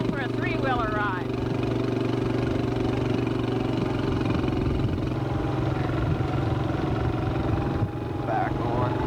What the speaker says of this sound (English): We're going for a three-wheeler ride.